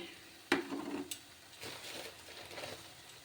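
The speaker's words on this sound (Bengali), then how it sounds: "এবার তাতে আমি টমেটো কুচিটা দিয়ে দিচ্ছি" Chopped tomato tipped into a pan of sautéing vegetables for a home-style bottle gourd curry, a sharp clatter as it lands followed by soft scraping and stirring, faint and close.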